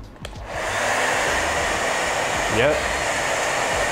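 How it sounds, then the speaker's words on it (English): A 1200 watt hair dryer runs on a portable power station, its steady loud whooshing hum starting abruptly and holding constant, with a brief spoken word near the start. "This is the 1200 watt hair dryer from before."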